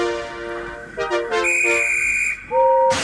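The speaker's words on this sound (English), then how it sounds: "the guard eventually blew his whistle and Gordon set off" A steam locomotive's whistle at a station platform, a loud sustained shrill tone with shifting pitches, then a short second blast, heard over a steady background hiss, with no talking.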